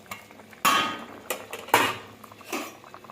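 Pieces of fried tangra fish go into a pot of boiling curry with several sharp metallic clinks and scrapes of a utensil against the pan, spaced apart over a quiet background.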